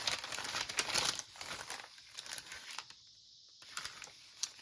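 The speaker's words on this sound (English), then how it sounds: "I love the sound of the papers, the feel of the papers, the texture that the different papers give the journal" Paper crinkling and rustling from a paper bag and assorted papers being handled while making an envelope journal, a close, steady crackle with brief quieter gaps.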